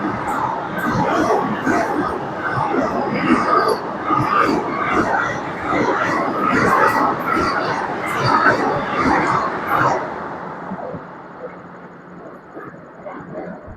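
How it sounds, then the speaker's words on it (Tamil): A Vande Bharat express rushes past a MEMU passenger train in India: a dense, loud rolling roar for about ten seconds, then dropping away, with voices mixed in. "அதான் வந்தே பாரத் போயிட்டான்"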